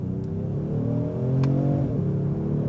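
A 2020 Genesis G70 3.3 turbo with AWD and an 8-speed automatic accelerates from inside the cabin, its engine note climbing steadily, then dipping briefly as it upshifts before pulling on, loud and close.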